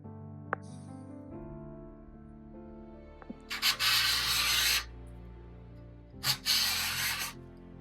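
A hand scraper rasps across the top of an old wooden game table with chipboard underneath, in two loud strokes of about a second each, with a faint steady hum in the background.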